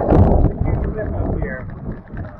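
Cold wind blows outdoors by a rock on Yakushima, a loud, low, rough buffeting under a person talking.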